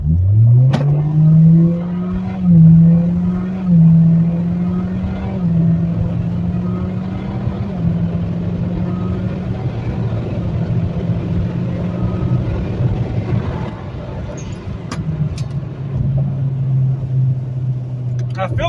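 Turbocharged car fitted with an aftermarket cold air intake accelerating hard in a 20 to 100 pull, a loud, steady engine roar climbing in pitch through gear changes, heard from inside the cabin with people talking over it.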